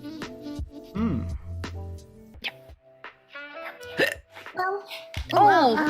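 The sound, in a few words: hiccup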